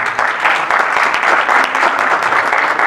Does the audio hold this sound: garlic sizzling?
no